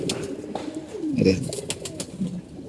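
A domestic pigeon gives a single low coo in the middle of a short stretch of quiet background noise, with a few faint clicks around it.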